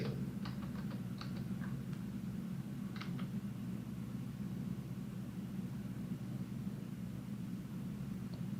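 Sparse computer keyboard keystrokes clustered in the first few seconds, faint over a steady low hum, then only the hum remains during layout drawing work on a computer.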